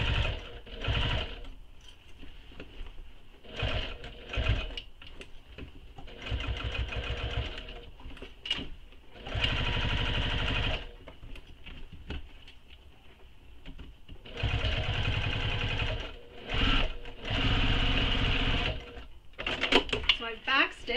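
Close sewing machine top stitching and backstitching a tote bag, running in repeated bursts of a few seconds separated by pauses filled with clicks, handling noises and a person talking.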